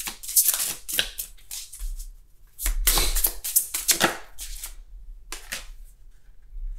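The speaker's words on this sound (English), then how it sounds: "So I'm going to shuffle this and see what is your" Tarot cards being shuffled by hand, with quick papery riffles and slaps arriving in several close bursts and short pauses between them.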